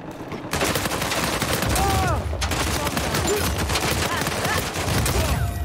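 Rapid bursts of AK rifle gunfire in Uncharted 4 multiplayer, loud and dense, with repeated volleys rattling across the whole stretch amid other game effects and explosions.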